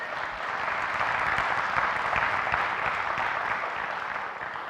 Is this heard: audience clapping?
yes